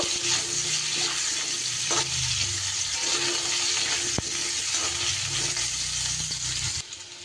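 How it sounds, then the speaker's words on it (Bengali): Pumpkin and potatoes fry in a pan with a continuous sizzle and hiss, broken by a few scraping stirs, close and alone with no talking. "কুমড়োটাও আমি কিন্তু বেশ আলুর সাথে ভাজা ভাজা করে নেব"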